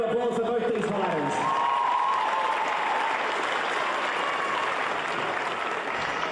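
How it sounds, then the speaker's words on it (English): An audience at a Muay Thai Grand Prix fight event gives a sustained round of applause for both fighters, dense clapping with some cheering, while an announcer speaks over the start. "let's hear another big round of applause for both these fighters"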